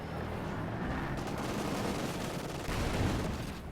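Sustained machine gun fire in the World War II strategy game Company of Heroes 2, a dense, continuous rattle of battlefield gunfire that holds steady throughout and swells slightly near the end.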